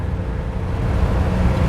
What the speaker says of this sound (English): you've got to really get it down to make the engine work hard